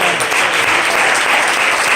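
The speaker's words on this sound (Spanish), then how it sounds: "Denle un aplauso" A church congregation bursts into applause during a Spanish-language sermon, a dense, loud, steady wash of many hands clapping alone for two seconds.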